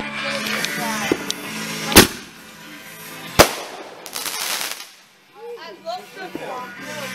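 Large mortar shell fireworks burst outdoors in two sharp, loud booms a second or so apart, with crackling tails, while people talk and call out between the blasts.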